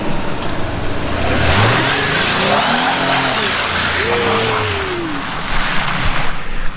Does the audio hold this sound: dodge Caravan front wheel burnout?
yes